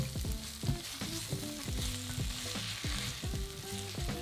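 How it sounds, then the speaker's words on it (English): Minced garlic and ginger sizzle and fry steadily in a pan with a constant close crackle and some stirring clatter, no voices. "Add in 2 cloves of minced garlic and a teaspoon of minced ginger and cook for another minute."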